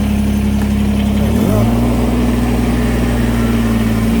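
A Kubota BX series compact tractor engine runs loud and close as the machine moves in low gear, a steady low drone that shifts pitch slightly partway through, with no talking over it.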